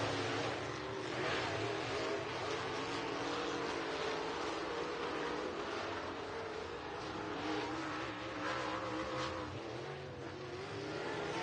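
Race cars at Southern Raceway in Milton, Florida, accelerate with a loud, continuous engine roar that rises and sustains throughout, layered from several cars on track.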